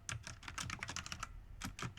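Fast typing on a computer keyboard, a quick run of close key clicks with a brief pause before a few more strokes.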